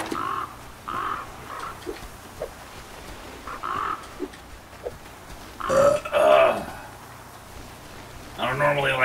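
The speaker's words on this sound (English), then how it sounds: "Crows are pissing me off." Crows cawing in the survival video game Flame in the Flood, several harsh caws in short bursts spread across the stretch, with someone talking and burping over them.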